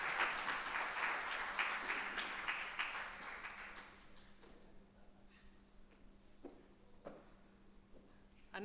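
Audience applause at a workshop opening on patient safety and infection control, a dense wash of clapping lasting about four seconds before fading into a quiet room with a few scattered claps and small noises.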